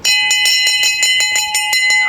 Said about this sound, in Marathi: अशी घंटा वाजाची यो घंटा वाजला म्हणजे आमची शाळा सुटली